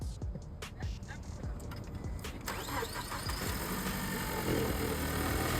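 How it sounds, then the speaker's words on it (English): A 2011–2019 Ford Focus, just back together after a valve cover gasket replacement, cranks with a few clicks and catches, then settles into a steady, close idle hum. "Started up the car."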